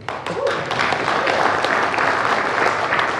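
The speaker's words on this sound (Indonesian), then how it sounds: "Sebelumnya saya minta aplaus dulu untuk Rama Piko" Studio audience on an Indonesian television talk show breaks into steady, loud applause, a dense wash of clapping that holds evenly for a few seconds.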